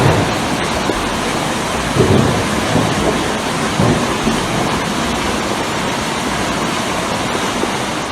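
Heavy rain roars steadily through a flash flood, a dense loud wash of water with low rumbles of thunder swelling briefly around the middle, no voices.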